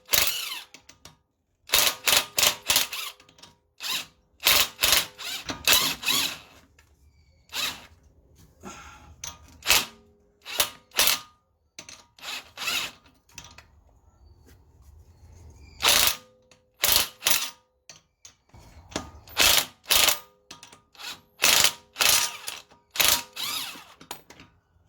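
Wrench ratcheting and clicking on the rear top mount bolt of a Ford Mondeo ST220, in repeated bursts of sharp metallic clicks with short pauses between, close and fairly loud with no talk.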